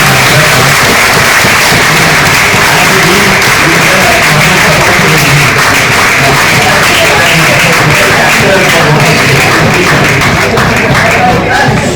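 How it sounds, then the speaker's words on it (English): A large audience at a felicitation event for a doctor applauds steadily, a dense, loud, continuous wash of clapping with crowd murmur that fills the whole stretch without pause. "All of us give a big applause for Praveen."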